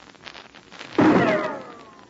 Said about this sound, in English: Did you hear that rifle shot?